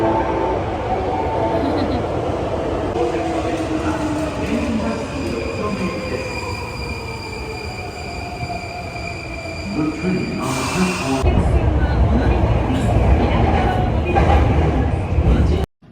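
An Osaka train rumbles past with a steady roar and high squealing wheels. About two thirds of the way through, the sound swells louder, then cuts off abruptly near the end. The whole pass is loud and close.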